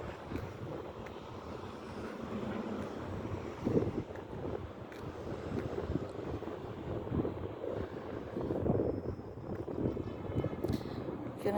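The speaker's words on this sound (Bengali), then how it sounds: "এখানে প্রচন্ড বাতাস" Strong wind buffeting the microphone in an open space near a metro station, a continuous rough rumble that swells and gusts throughout, with no voices.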